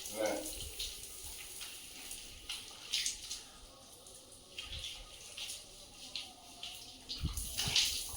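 Water runs from a tap into a bathroom basin while a small child is bathed and shampooed, a steady soft splash with brief louder bursts; people talk in the background.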